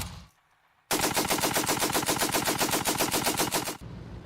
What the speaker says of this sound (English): The anti-aircraft machine guns only opened fire on the transport gliders shortly before they landed.